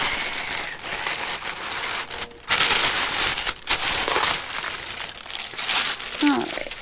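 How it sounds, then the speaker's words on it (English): Crinkly paper packaging bag being opened and handled, a bubble-wrapped parcel shipped from Shanghai, China, with a steady rustling and crackling texture, a few louder crunches, close to the mic. "So just little noisy paper is the bag."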